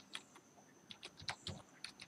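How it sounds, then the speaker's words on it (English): Keys clatter on a computer keyboard as a web address is entered in a browser, a quiet run of irregular clicks and taps, close and alone with no talking. "Type"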